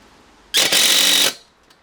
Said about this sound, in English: So we'll just put a couple of screws either side to keep them.